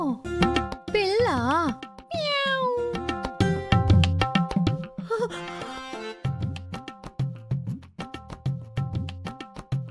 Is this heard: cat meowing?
yes